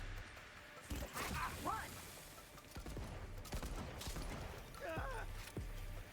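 Shotgun blasts in Cyberpunk 2077 gameplay, several sharp booming shots spaced a second or two apart amid combat noise, with a voice talking over the action.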